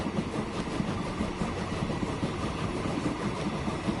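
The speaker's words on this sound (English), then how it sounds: "I can hear our train." Train arriving in the video game Transport Fever 2, a steady rumbling engine and rolling wagons with a continuous dense roar, close and fairly loud throughout.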